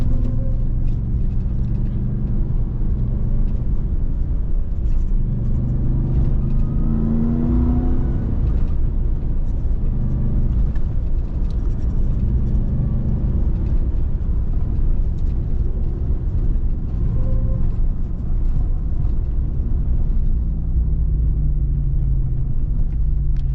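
A 2021 Ram TRX pickup driving off-road: loud, steady engine rumble and whirring drivetrain and tire noise fill the whole stretch, heard from close by with no talking.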